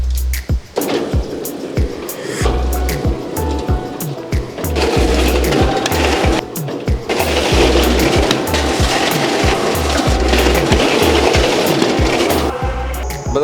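A 2 HP mini table-type coconut dehusking machine grinding through coconuts: a loud motor drone with steady rapid thumping, heavy ripping and tearing bursts as husks are peeled, then the motor running lighter near the end.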